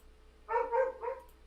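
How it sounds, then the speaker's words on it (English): A dog barking nearby indoors: one short, muffled bark cluster of about three quick pulses over a faint steady hum, with no talking. "Sorry if you hear my dog."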